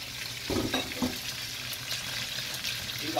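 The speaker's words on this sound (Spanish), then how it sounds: "Yo voy a terminar de sellar este pollo." Chicken searing in a hot pan for chop suey, with a constant close sizzle of frying and a few stirring or turning thumps, no talking.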